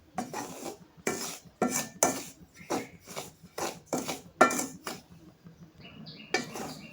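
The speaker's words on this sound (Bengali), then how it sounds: "চুলাটা লো আঁচে রেখে সুজিটা একটু নাড়াচাড়া করে নিব।" A utensil stirs semolina in a pan over low heat, making a series of sharp scraping and clinking strokes, about one per half second, with a short pause before a final stroke.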